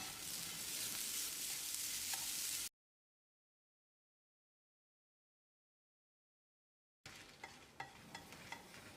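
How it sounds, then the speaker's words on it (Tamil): Grated coconut roasts in a pan for a spicy drumstick kara kuzhambu paste, giving a steady dry crackling sizzle that cuts out into silence for several seconds and then returns with light scraping stirs. "இதோட அரை கப் அளவு துருவின தேங்காயை சேர்த்து ஒரு 2-3 நிமிஷம் வறுக்கணும்."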